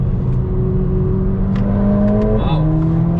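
A Renntech-tuned Mercedes-AMG A45 S all-wheel-drive hot hatch pulls hard around the Nürburgring, its engine droning steadily from inside the cabin, then dropping pitch on a gear change before building again, with occupants talking over it.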